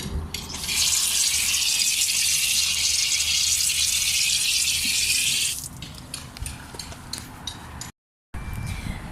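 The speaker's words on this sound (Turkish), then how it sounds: "Tabii ki ayaklarımızı yıkayarak giriş yapıyoruz." Water gushes steadily from a tap or shower as feet are rinsed before entering a pool, a loud continuous rush lasting about five seconds before it stops, leaving softer splashes and drips afterward.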